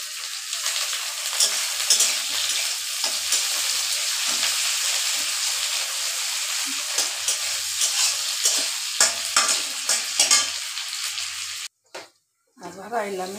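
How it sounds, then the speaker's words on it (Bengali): Potatoes added to onions frying in a pan, stirred continuously with a loud close sizzle and rhythmic scraping strokes, then a brief silence and a louder clatter toward the end, with faint talk at moments. "লগে আমি কিন্তু আলুটাও দিয়ে দিব যাতে একটু ভাজা ভাজা হয়।"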